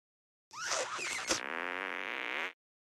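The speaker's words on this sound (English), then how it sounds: "Try and fart on me." A fart attack in South Park: The Stick of Truth: a single cartoonish, buzzing fart blast lasting about two seconds, loud and close with a wobbly rising and falling pitch, heard alone without talk.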